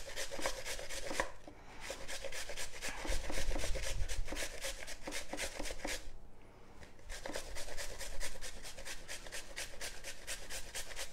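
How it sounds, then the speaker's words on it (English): Carrots are grated by hand for a carrot cake, the rasping strokes close and steady with a regular back-and-forth rhythm and two brief pauses. "Anyone else grating?"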